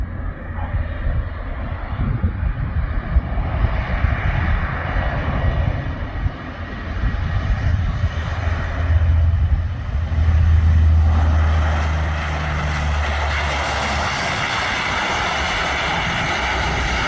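An airplane comes in to land with one engine out, a broad steady engine roar and rushing noise that swells and then settles into a lower, even drone near the end.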